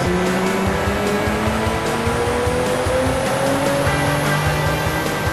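A Nissan 350Z, running fully synthetic ENEOS 0W50 oil, strains on a dyno as its engine note climbs steadily in pitch through a loud, continuous wide-open pull, with no voices.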